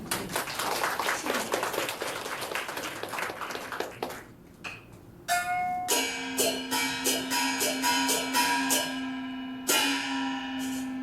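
Audience clapping at a Chinese opera singing class showcase runs for about four seconds and fades, followed by bright, ringing bell-like tones struck in a rhythmic pattern.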